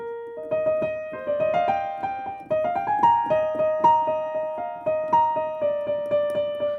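A piano plays a stepwise run of single struck notes, each decaying, settling repeatedly on one recurring note in a steady rhythm, close and alone.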